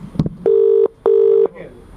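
Two long steady telephone keypad tones sound in turn while a call is dialed, after a brief clatter of handling the phone.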